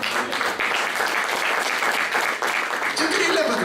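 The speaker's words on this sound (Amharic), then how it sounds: "አጨብጭቡ ለጌታ ክብር።" A church congregation applauds together in praise, a dense, steady roar of clapping that holds at full strength throughout, with a preacher's voice and shouts mixed into the crowd.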